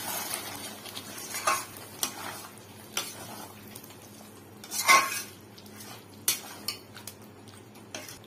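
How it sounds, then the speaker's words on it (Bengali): A spoon stirring chicken curry after a cup of water has gone into the pot, giving scattered scraping and clinking knocks against the pot over a low kitchen background, with no talking. "এবার একটু নাড়াচাড়া করে নিতে হবে।"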